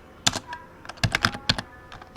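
Code is typed on a computer keyboard in crisp, close keystrokes, arriving in quick irregular bursts with short pauses between.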